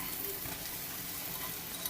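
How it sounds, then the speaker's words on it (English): Shredded carrots and caramelized onions frying in oil in a pan for Ukrainian borscht: a steady, close, dense sizzle throughout with no talk. "Make sure that they're frying evenly."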